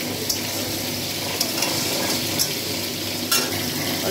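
Fish heads and potato pieces fry in oil in a pan, a dense, even sizzle from start to finish with occasional light clinks of a utensil and no talking.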